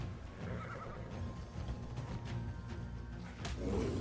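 An Equus horse in the game ARK: Survival neighs with a whinny among hoof clip-clops and game background noise, rising to a louder call near the end.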